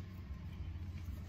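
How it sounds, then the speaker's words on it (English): A car passing close behind people standing outdoors in the country, a brief low engine rumble and road noise, steady and moderately loud. "Sorry, it's a car behind us."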